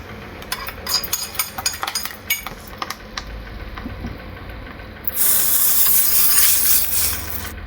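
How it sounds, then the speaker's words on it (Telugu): A hot tempering poured into moringa leaf chutney, starting with clinks of utensils and stirring, then a sudden loud, hissing sizzle that bursts up and holds for a couple of seconds. "ఈ పచ్చడిలో పోపు వేసేద్దాం"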